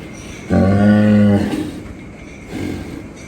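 A single loud, deep moo from a nearby black Sahiwal bull lasting about a second, followed by a quieter lowing grunt.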